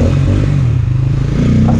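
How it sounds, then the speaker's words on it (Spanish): A loud, rumbling Bajaj Rouser N250 motorcycle exhaust, idling roughly and revving up slightly toward the end, close by. "a ver si escucha el escape"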